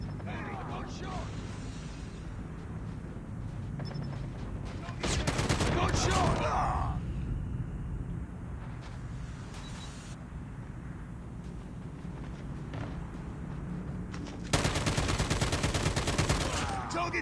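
Gunfire in Call of Duty: Mobile during a Team Deathmatch on the Nuketown Russia map, with loud bursts of automatic fire near the start and again at the end over constant game noise, while a voice speaks over it.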